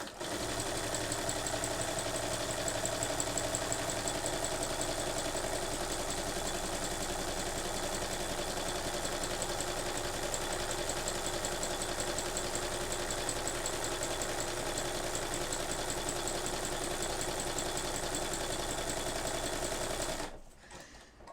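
Sewing machine steadily stitching embroidery calligraphy letters on fabric in a hoop, a continuous fast mechanical whir with even rhythm for about twenty seconds, stopping abruptly at the end.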